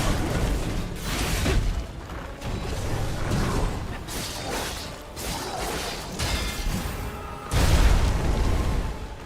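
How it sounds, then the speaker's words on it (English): Three delayed explosions go off one after another during a Lies of P boss fight, heavy booming bursts amid whooshing and mechanical clanks, with a big blast near the end over constant game noise. "this is going to be the 3 delayed explosions"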